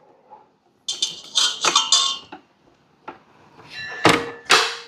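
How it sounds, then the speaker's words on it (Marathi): Whisk attachment clicked and fitted onto a stand mixer in a home kitchen, heard as a handful of close, sharp metallic clanks and knocks spread irregularly, with short quiet gaps between them. "आणि हे विस्कर याला लावून घेऊया."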